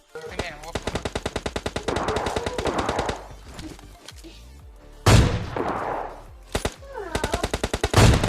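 Gunfire rings out in a battle royale game, including AWM sniper rifle fire. Rapid bursts of evenly spaced shots come in several volleys, with a few heavier single blasts in between. The shots are loud and close.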